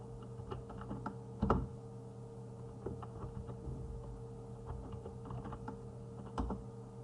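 Computer keyboard keys clacking as commands are typed in AutoCAD: quiet, scattered keystrokes in uneven bursts with a few louder taps, over a low steady hum, no voices.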